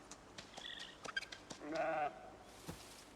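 Sheep bleating in the farm pens of the video game Project Zomboid, one clear drawn-out bleat after a few small clicks and taps, close and alone without talk.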